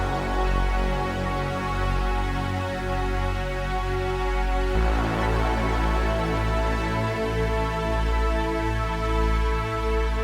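An electronic track produced in Ableton Lite layers a rain and train sample with a deep break bass sound, playing as a dense, continuous loop that shifts to a fuller arrangement about halfway through.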